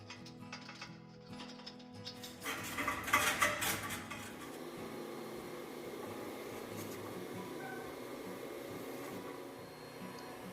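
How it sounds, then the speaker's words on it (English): A wire brush scrapes back and forth inside the oven of a Kuma Applewood cook stove, giving metallic rasping and clattering strokes that are loudest in a short burst and then settle into softer scraping. "Slide the brush forwards and backwards, angling the brush to reach all areas of the oven sides."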